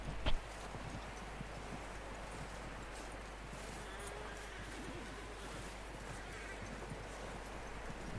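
Horse hooves clip-clop in Red Dead Redemption, a faint steady trot under quiet outdoor ambience with light birdsong and a sharp click at the start.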